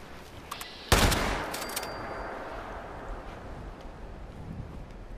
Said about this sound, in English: Let's shotgun this guy.